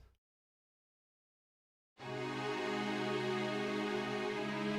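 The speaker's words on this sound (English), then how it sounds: "low impact string library, just so I could work out the voice leading for myself, which sounds like this." MIDI string sketch on a low-impact Spitfire string library, sustained layered string chords entering after near silence and holding steadily, soft and even.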